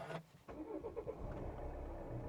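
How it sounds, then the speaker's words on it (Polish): A 2018 Volvo XC60 D4 diesel engine turns over with a brief starter whir, then catches and settles into a low, steady idle, heard from inside or near the car. "Odpalimy sobie samochód, auto odpala się w ten sposób."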